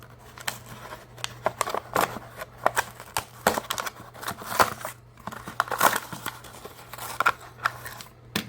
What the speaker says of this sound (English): Let's cut the package open, rather.